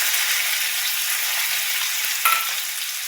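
Mustard seeds and cumin sizzle in hot oil while being prepared for chapadi bhaji, a steady close crackling hiss with a brief sharp pop near the end, and nobody talking.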